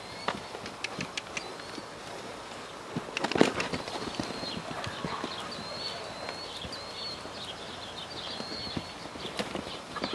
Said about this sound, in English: These them other horses.